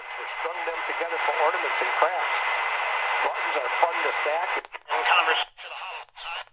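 Daytime medium-wave reception of the AM station WBIG from Aurora, Illinois, on a Tecsun PL-380 portable radio: tinny, band-limited talk through the speaker that holds steady, then fades and drops out in choppy bursts near the end.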